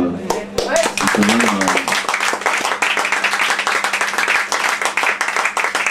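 A crowd applauds at a festive gathering, dense rapid clapping filling the room loudly and steadily, with a voice audible briefly at the start before the clapping takes over.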